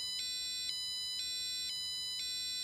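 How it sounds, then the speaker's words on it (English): A burglar alarm sounds in a repeating electronic beep pattern, several evenly spaced tonal pulses, clear and steady with no talking. "a burglar alarm"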